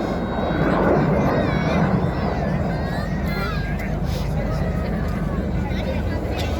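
Red Arrows jets fly over an airshow at RAF Coningsby, a loud, steady engine roar that fills the air and shifts slowly as the aircraft pass, over crowd noise and a commentator's voice.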